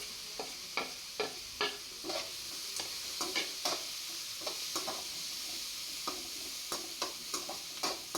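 Onion and tomato with turmeric frying in a pan for paneer pulao, a steady sizzle broken by repeated sharp scraping stir strokes at an irregular pace, close and alone without talk.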